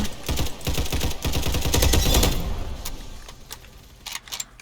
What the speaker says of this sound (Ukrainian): по мені стріляють, я стріляю по-іншому